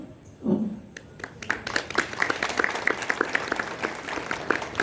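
An audience at a religious discourse on Sanatan Dharma breaks into applause after a brief voice at the start, the clapping building quickly into a steady, fairly close round of many hands that continues to the end.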